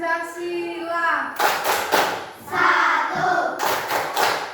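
Children and adults clap a rhythmic Tepuk Pancasila clapping chant together in a school setting, with bursts of group clapping and shouting voices following an opening spoken call.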